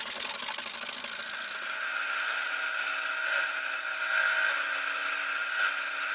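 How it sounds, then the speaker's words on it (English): Continuous rasping and grinding against wood, steady and close, with a high whining tone from a power tool as the wooden neck of an OM-style guitar is shaped. "Now I'm shaping the neck"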